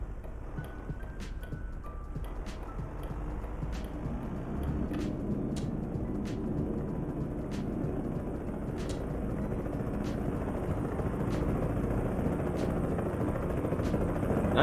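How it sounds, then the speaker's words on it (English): A helicopter drones continuously in American Truck Simulator, with rapid rhythmic blade chopping, steady and fairly loud, slowly growing stronger. "That is a very loud helicopter."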